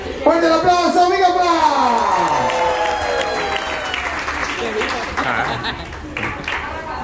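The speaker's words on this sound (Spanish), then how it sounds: "Fuerte el aplauso, amigo," Audience at a live pirate-fight show applauding, a sustained wash of clapping and crowd noise underneath loud shouting voices and a performer calling out.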